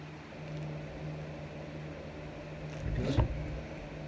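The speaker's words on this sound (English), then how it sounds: "I'm going to put the rivet gun on this" A rivet gun pulls a rivet tight in a mask, giving a short mechanical clunk and squeeze near the end, close up over a steady low hum.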